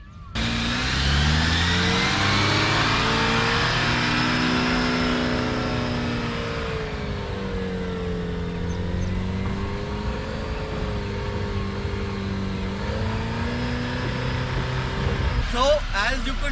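Engine of a 2022 Jeep Wrangler Rubicon crawling off-road in 4x4 low, first gear, manual: a sustained droning engine note rising and falling in pitch as it revs, ending in a brief clatter, with a voice speaking over it.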